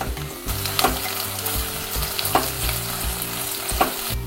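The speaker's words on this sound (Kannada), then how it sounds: "ಈರುಳ್ಳಿ ಚೆನ್ನಾಗಿ ಫ್ರೈ ಆಗಬೇಕು." Onions frying in hot oil in a pan for carrot pulao give a steady close sizzle and hiss, with a few sharp stirring scrapes at intervals and no talking.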